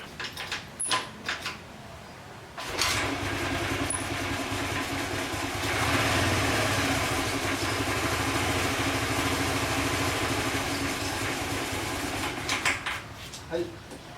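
Motorcycle engine idling with a steady low rumble that swells slightly midway, loud and close, after some clattering and handling noises at the start and end.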